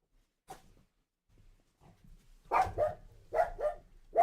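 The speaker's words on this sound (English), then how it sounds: "What you barking at?" A dog gives a few short barks and whimpers indoors, starting faint and sparse, then several louder close barks in quick succession near the end.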